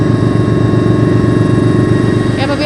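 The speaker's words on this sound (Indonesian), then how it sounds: "saat ini kami sedang berada di helikopter anti kapal selam AKS AS565 MBE Panther milik TNI Angkatan Laut" An AS565 MBE Panther anti-submarine navy helicopter in flight, heard from inside the cabin as a loud, steady rotor and turbine drone with a rapid low throb throughout.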